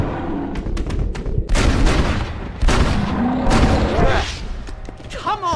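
Gunfire at a charging bear in Red Dead Redemption, with several loud, booming shots and thuds in quick bursts, layered over game noise and urgent shouting voices.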